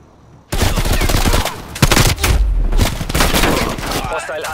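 Loud artillery and gunfire in a competitive league-play shooter match, dense booms and rapid shots packed closely together right after a short silence, continuous and near, with some voices mixed in.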